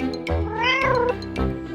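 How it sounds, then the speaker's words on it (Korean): A cat meows loudly and close by, a drawn-out, wavering cry with a few shorter squeaks around it. "고양이다!"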